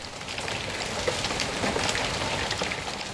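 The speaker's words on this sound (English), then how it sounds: "We're in late afternoon hailstorm season, so do whatever you need to do to protect your tomatoes from an assault like this one I recorded on Sunday evening" Dense late-afternoon hailstorm pelting a Denver garden, a steady close roar of countless small impacts with scattered sharper ticks, no voices.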